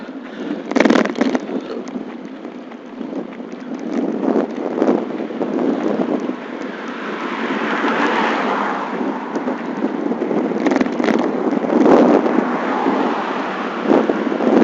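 Strong headwind buffets the microphone on a recumbent bicycle ridden through the streets of Queens, New York City, a loud continuous rumbling roar with gusty surges and no one talking.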